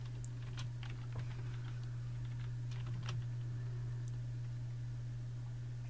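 Someone types on a computer keyboard while coding HTML, with quick, irregular clicks over a constant low electrical hum.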